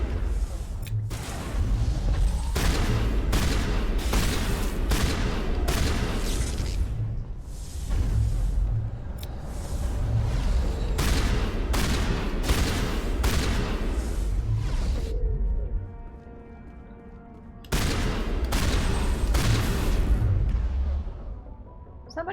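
Gunfire in Mass Effect Legendary Edition comes as repeated loud bursts and booms with brief pauses, falling to a quieter rumbling stretch before the firing resumes.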